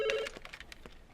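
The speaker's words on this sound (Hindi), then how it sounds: "फोन उठाओ" A telephone rings in a dubbed Hindi action film scene, one bright electronic ring followed by quick clicking pulses, fairly clear with little else around it.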